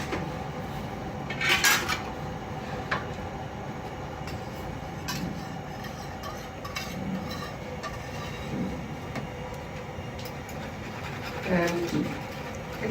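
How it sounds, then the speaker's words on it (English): A metal whisk stirs a sauce with cloves and bay leaf in a pot over a stove fire, giving light clinks and scraping scattered over steady kitchen hum, with a few sharper metallic taps near the start and end. "even when you are whisking with metallic, go gently, you don't have to dig into the pot"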